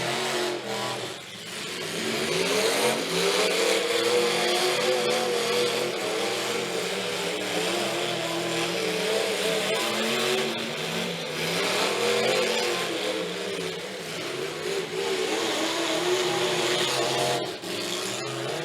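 Old-school demolition derby cars rev loudly and continuously in a team derby, their engines roaring and rising and falling over a dense, unbroken wash of motor noise.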